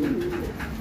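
A banded pigeon gives a single close, soft low coo, a smooth drawn-out call standing alone without any talk.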